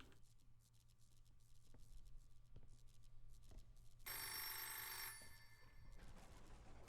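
A telephone rings inside the video game Misery Mansion, a single bright electronic ring lasting about a second, heard moderately over a quiet, low ambient hum.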